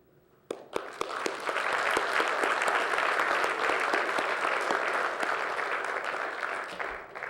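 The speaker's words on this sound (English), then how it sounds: "they deserve a round of applause as well" Audience applause fills a city council chamber in Palo Alto, starting with a few sharp claps and swelling into steady, dense clapping from the room that holds for several seconds before tapering slightly.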